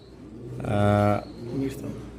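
An almond-coloured teddy pigeon at a pigeon farm gives one close, low, rounded coo with a rich tone, followed by a softer, shorter call, over light background noise.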